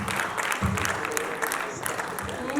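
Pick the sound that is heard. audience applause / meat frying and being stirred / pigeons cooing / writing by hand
audience applause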